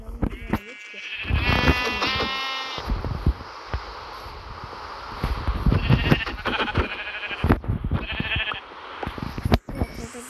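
Sheep bleating in the Minecraft video game, several loud wavering bleats in bursts with rustling game sounds between them.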